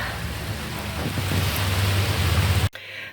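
Steady rain falling outside, a dense continuous hiss with a low rumble beneath, loud and close, cutting off abruptly near the end.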